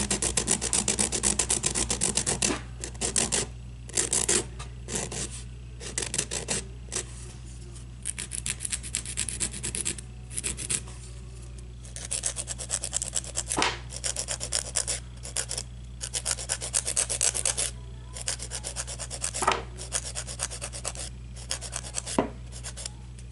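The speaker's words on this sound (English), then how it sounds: "So I'm just going to start filing." Fingernails being filed into a square shape with a nail file, a continuous close rasping of short rapid strokes in bursts with brief pauses, over a steady low hum and no talking.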